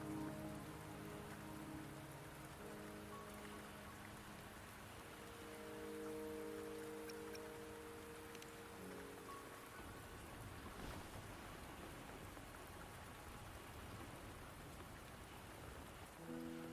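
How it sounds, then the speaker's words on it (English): Steady rain falls in the Wuthering Waves video game, a constant soft hiss of drops with gentle background music tones over it, and no talking. "Don't worry, the rain won't last much longer."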